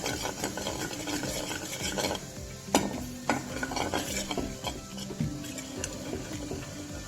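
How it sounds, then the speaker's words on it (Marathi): Pearl millet (bajra) flour stirred into hot oil in a kadhai on a gas stove: steady, close rasping scrapes of the spoon over a low sizzle, with a few sharper knocks against the pan and no talk. "एका कढईत मी आता तेल टाकलेलं आहे, गॅसवर ठेवली ती कढई। त्यात मी आता थोडं बाजरीचं पीठ घालते।"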